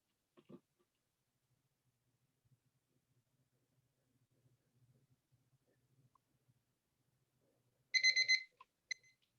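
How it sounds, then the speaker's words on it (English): A timer alarm goes off after about eight seconds of near silence, sounding as a tight burst of rapid, bright electronic beeps followed by a couple of short stray beeps, fairly loud and close. "I'm going to start this timer, and you'll hear when 9 seconds is up."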